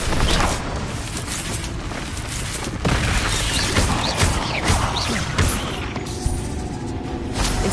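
An Incendio fire spell is cast in the middle of a Hogwarts Legacy battle, heard as a dense roar of booms, crashes and whooshing bursts that continues throughout at high loudness.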